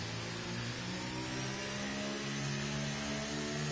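Racing car engines droning steadily at Imola in a sim racing game, a continuous mid-pitched roar with layered engine tones holding at a constant loud level throughout, no voices.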